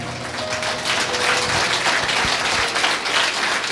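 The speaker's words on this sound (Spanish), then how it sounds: "Fuerte aplausos al Señor" A church congregation gives a strong round of applause, thick steady clapping filling the space with a low hum underneath throughout.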